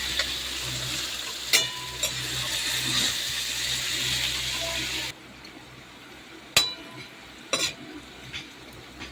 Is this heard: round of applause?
no